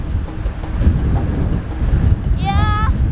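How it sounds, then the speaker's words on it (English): Steady, rushing wind buffets the microphone, roaring low and broad throughout, with a brief warbling tone near the end. "It's so windy."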